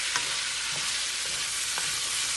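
Pimento and Scotch bonnet pepper stir-frying in coconut oil for a Jamaican-style dish, giving a steady close sizzle with occasional soft stirring scrapes and no talking.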